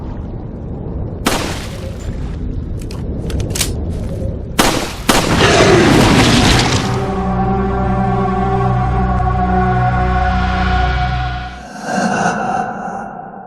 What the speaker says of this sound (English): why not unload a few rounds into the murky waters to stir things up a bit?